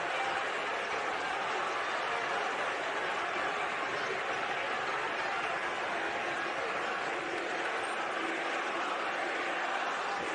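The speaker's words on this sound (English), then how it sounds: "it just got a little bit noisier here with the camera, but Love will quiet the crowd for a moment as Bacot and John go tumbling to the court." Dense, roaring crowd noise fills a basketball arena during a Duke vs UNC game, holding steady and loud for the whole stretch with scattered cheering and applause.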